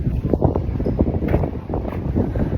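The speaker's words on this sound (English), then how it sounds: "I hope this wind is not making it difficult for you to hear." Wind blowing hard outdoors in Reggio Calabria, a steady broadband rush with gusts buffeting the microphone throughout, loud and close, with no one speaking.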